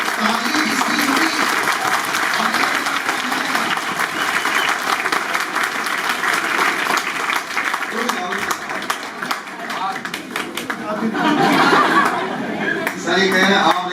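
A crowd at a coaching institute results ceremony in Kanpur claps continuously for about fourteen seconds, with chatter and some laughter mixed in and a brief surge of louder clapping near the end.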